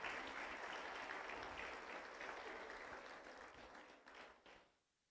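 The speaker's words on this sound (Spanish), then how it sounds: "Démosle palmas a Jesús." Congregation applause fills a church service, a steady dense wash of clapping that holds for several seconds before thinning and fading out near the end.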